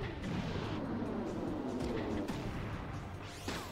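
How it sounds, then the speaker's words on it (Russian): A napalm tank explodes in the video game Front Mission 3 with dense, rumbling blast noise and crackling debris that persists for several seconds, ending with a sweeping whoosh. "будет взрываться танк."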